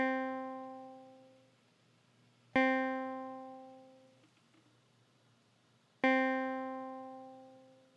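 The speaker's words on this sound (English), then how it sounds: "Think of a single note of a guitar." Single plucked guitar note repeated three times, each with a sharp bright attack and a smooth fading decay, clean and close in quiet surroundings.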